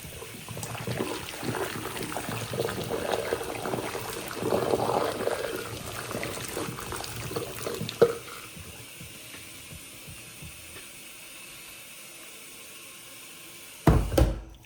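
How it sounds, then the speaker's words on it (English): Boiling water pouring steadily down a drain treated with drain cleaner, with gurgling and some mechanical rattling, then fading to quiet before a short clatter near the end. "And the rest I'm just gonna pour the boiling hot water in."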